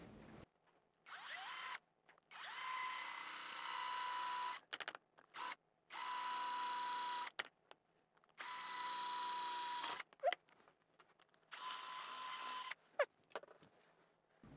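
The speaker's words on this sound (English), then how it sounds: "I'm going to drill a 1/4-inch hole right here on the left-hand side of this screw" A power drill whirs in several steady bursts, each a few seconds long, drilling a 1/4-inch hole, with short pauses and faint handling noises between them.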